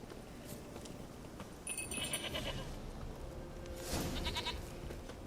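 Goat bleats from The Witcher 3 video game, a couple of short wavering calls at moderate distance over a steady game soundscape with no talk.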